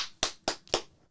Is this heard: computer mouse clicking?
no